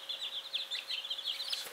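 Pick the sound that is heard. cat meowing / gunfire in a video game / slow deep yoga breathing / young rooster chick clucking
young rooster chick clucking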